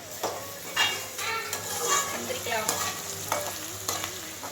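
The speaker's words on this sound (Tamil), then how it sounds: "நல்லா வெங்காயம் வதங்கிடுச்சு பாருங்க" Onions sizzle as they sauté in a pan, with steady frying hiss and repeated metal spoon scrapes and clinks against the pan, close and loud, with no talk.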